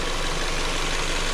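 A 2015 Ford Escape with a six-cylinder engine idling, a steady dense rumble with constant loudness close to the microphone, no voices present.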